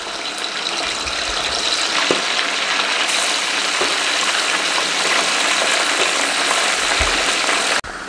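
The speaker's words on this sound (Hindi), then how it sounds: "5 मिनट हाई फ्लेम पे हमने इसको इस तरीके से फ्राई कर लिया" Chicken pieces frying over a high flame in a pan of oil, a loud, steady, hissing sizzle that continues evenly throughout, close up, with a faint knock near the end and no talking.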